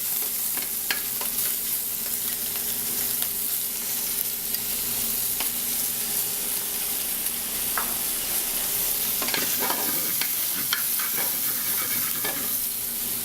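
Shrimp and jerk sausage fry in a pan with a constant bright sizzle, occasional spatula scrapes and clicks standing out near the middle and end, close and steady with no talk.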